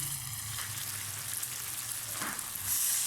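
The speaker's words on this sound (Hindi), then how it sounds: "2 से 3 मिनट तक मैंने आलूओं को हाई फ्लेम के ऊपर फ्राई कर लिया है।" Potatoes fry in a pan over a high flame with a soft, steady sizzle and faint crackle, one brief stirring scrape in the middle and a slightly louder hiss at the end.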